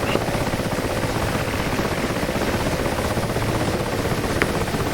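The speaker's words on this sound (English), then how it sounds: "The heavy lifter helicopters are entering the vicinity now." Heavy-lift helicopters from the combat flight simulator DCS, flying in over an Afghanistan battle: a loud, steady rotor drone with rhythmic low thumping that fills the whole span without a break.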